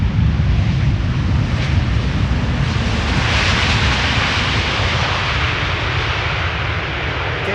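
A KLM airliner arriving at Amsterdam Schiphol passes with a broad, loud engine roar and rushing wash that swells toward the middle and stays steady, with no voices.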